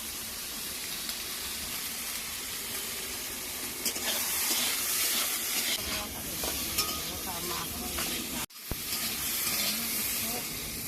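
Thinly sliced potatoes fry in hot oil in a pan, giving a steady bright sizzle and hiss with occasional stirring scrapes, close and continuous, briefly cut off near the end.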